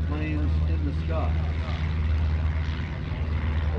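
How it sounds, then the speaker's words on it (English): Light L-bird propeller airplanes at a World War II weekend air show fly overhead in trail formation, giving a steady droning engine hum with a faint voice talking underneath. "these little L-birds, the most feared airplanes in the sky."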